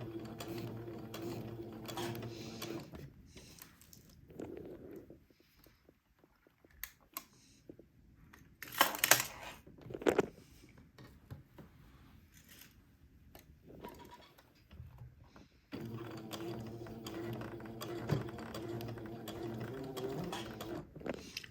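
A sewing machine stitches a neckband around a neckline in bursts of rapid mechanical clatter, running at the start and again near the end, with quieter handling noises and pauses in between.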